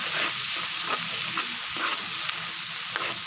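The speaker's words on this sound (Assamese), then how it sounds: "থোৱা মছলাখিনি নহৰু আদা জিৰা এইখিনি দি দিছোঁ, জলকীয়া পকা জলকীয়া আৰু এইখিনি পূৰা ধুনীয়াকৈ ভাজি লওঁ।" Garlic, ginger, cumin and green and ripe red chillies frying in hot oil, a dense continuous sizzle with faint stirring scrapes and taps, close and fairly even throughout, no talking.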